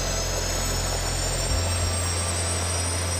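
Five small turbine engines on a jet suit spool up toward a roughly 30,000 RPM idle, giving a loud steady whine and high hiss, with a low rumble that drops away partway through.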